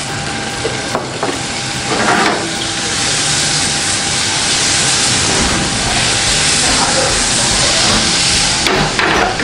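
Butter frying in a hot pan gives a steady, loud sizzle and hiss, with a few clanks and scrapes from utensils against the pan now and then.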